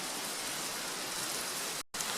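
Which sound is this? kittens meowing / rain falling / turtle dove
rain falling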